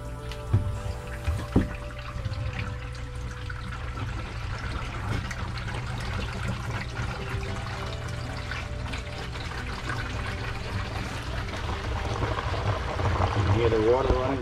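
Water running steadily through a koi pond's three-barrel filter system outdoors, a continuous trickling and gushing flow that swells slightly toward the end, with no talk.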